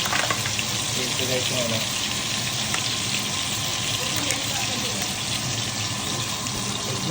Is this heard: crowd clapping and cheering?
no